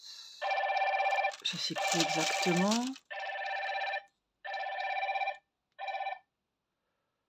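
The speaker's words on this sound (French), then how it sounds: "C'est rien, c'est mon téléphone." A mobile phone rings nearby with a bright, repeating electronic ringtone that plays in several pulses, the first stretch overlapped by someone speaking French, then three shorter bursts alone before it stops.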